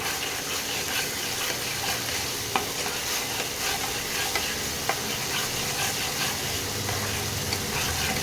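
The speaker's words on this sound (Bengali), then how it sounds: "ভালো করে মশলাটা কষিয়ে নিলাম" Spices with salt and ground black pepper being fried and stirred in a pan for okra, a constant soft sizzle with occasional spoon clinks and scrapes, close and unaccompanied by speech.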